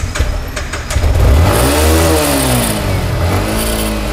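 A black Yamaha MT-15 motorcycle revs up nearby, its engine note rising and falling in smooth sweeps over a steady idle, loud and close with no voices.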